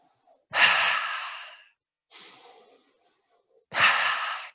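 A deep inhale followed by a breathy exhale through the mouth during a yoga session. The breaths repeat three times, close and clear, with silence between them.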